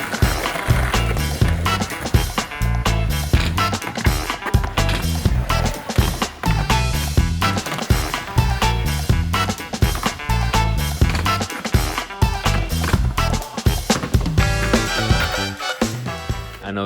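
Skateboard rolling and clattering around a backyard skatepark, with repeated wheel rumble, board slaps and impacts in an irregular rhythm, loud and close for a sustained stretch.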